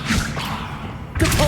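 Levioso spell cast effect in a Harry Potter video game: a brief airy whoosh followed by a sharper magical burst, close and moderately loud.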